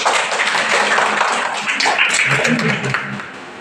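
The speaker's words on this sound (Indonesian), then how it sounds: "Oke, tepuk tangan untuk Sofi." Children in a classroom clap for a classmate, a dense burst of quick handclaps that fades near the end. Voices mix in under the clapping.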